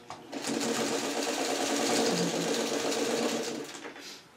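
A sewing machine stitches quilt pieces for a small Churn Dash mini quilt, running as a steady, close mechanical whir for about four seconds before easing off, with no talking.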